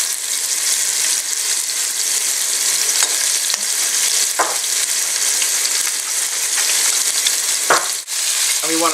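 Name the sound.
ground beef and tomatoes sautéing in a pan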